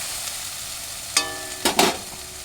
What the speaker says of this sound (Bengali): আমি এটা এখন ভালো করে কষে নেব